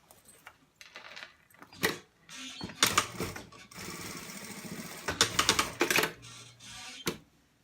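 Close-up domestic sewing machine stitching down a seam on an A-line dress, in several loud bursts of rapid mechanical clatter separated by short pauses and clicks.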